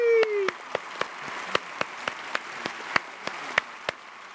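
Sparse applause for a singer on a talk show, with a few evenly spaced, crisp claps from a small number of hands, close by. A brief voice is heard at the start.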